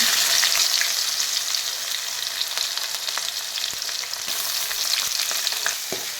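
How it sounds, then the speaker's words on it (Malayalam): Crushed shallots, ginger and garlic with dried chilies fry in hot oil, a steady loud crackling sizzle throughout with occasional stirring clicks, no voices. "നമ്മൾ ഇത് കണ്ടോ ചെറിയ ഉള്ളി, ഇഞ്ചി, വെളുത്തുള്ളി ഒന്ന് ജസ്റ്റ് ഒന്ന് ചതച്ചെടുത്ത് ഇട്ട് കൊടുക്കാം"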